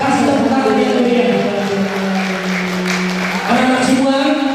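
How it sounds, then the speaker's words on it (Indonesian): Audience applause at an elementary school graduation ceremony, a steady wash of clapping from a large crowd that holds for several seconds, dips slightly midway, then swells again, with a low sustained tone underneath. "Kasih tepuk tangan yang meriah."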